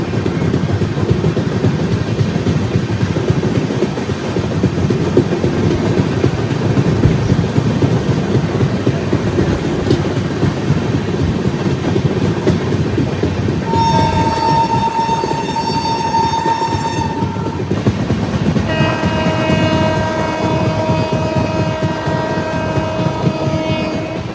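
The Yog Nagari Rishikesh–Trivandrum North SF Express rumbles along single-line track with a steady, loud clatter of wheels and carriages, and its horn sounds twice, a sustained blast followed by another long honk.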